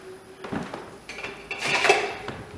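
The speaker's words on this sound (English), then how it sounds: "Now we're going to stir all that in" A spoon stirs sauerkraut into creamy Reuben soup in a crock pot, giving soft scraping and light clinks against the ceramic that build into a louder, busier stroke toward the end.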